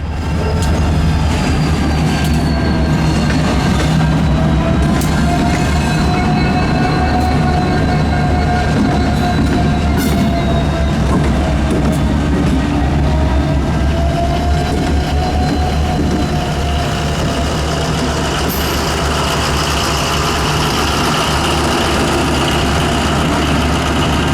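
A Cummins-repowered SD90 locomotive on the Yadkin Valley line rumbles past loud and close, its engine droning alongside a continuous roar of rolling cars and faint wheel squeal throughout.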